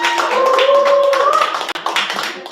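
Audience applause for the cafe staff at an open mic poetry slam night, a steady wash of clapping that holds for a couple of seconds before thinning, with a few voices whooping over it.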